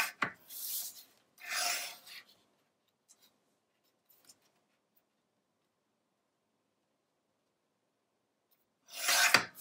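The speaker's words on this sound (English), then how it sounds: "So I trimmed a little from each side." Paper trimmed for a handmade travel journal, a few short rasping cutting strokes, close and soft, separated by long near-silent pauses and then one more stroke at the end.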